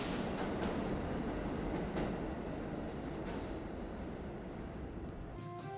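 A New York City subway train rumbles and clatters through Herald Square station on a Friday evening, a loud steady roar of wheels and cars with faint squeals, and no voices.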